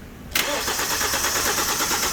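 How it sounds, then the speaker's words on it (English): A 2013 Hyundai Elantra engine cranks over when the starter relay pins are jumped, beginning with a sharp click and continuing as a steady, close whirring turnover that never fires into a start. "So doing that will cause your engine to turn over."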